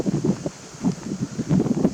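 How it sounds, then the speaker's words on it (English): Wind blows outdoors on a gusty day, buffeting the microphone with low, uneven rumbles that rise and fall in waves. No voices are heard. "we're a bit windy out here"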